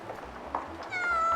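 A cat meows in the video game Garden Life during a rainy-day gardening scene; one short, clear meow rises near the end over a soft, steady game background, with no talking.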